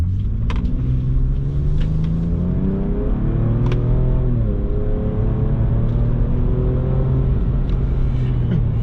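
Ford Ranger Raptor engine driving off-road, a loud continuous rumble that rises and falls as the truck revs and accelerates, close and steady throughout.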